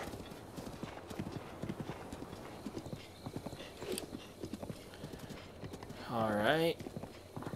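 Hoofbeats from a horse in Zelda: Breath of the Wild clop in an even, brisk rhythm, and a loud neigh rises near the end.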